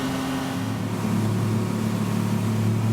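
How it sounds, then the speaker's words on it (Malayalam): A motorboat approaching the airport jetty in the Maldives, its engine a steady low drone with a constant hum, close and unbroken. "ബോട്ട് എയർപോർട്ടിന്റെ ജെട്ടിയിലേക്ക് അടുക്കുകയാണ്."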